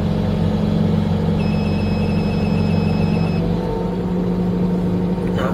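A crane's motor hook lifts a load, giving a loud, continuous engine drone with a thin, high whine that holds for a couple of seconds before fading.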